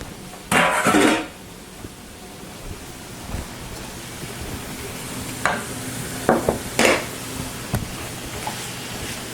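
Steak pieces are stirred through hot pan juices in a skillet, giving a few short scraping and sizzling bursts with quiet gaps between them.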